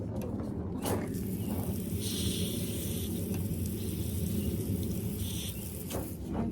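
Steady hiss of a water spray rinsing off a hand outdoors in a garden, a continuous rushing noise of moderate loudness with a few brief clicks and shifts in the spray, no talking.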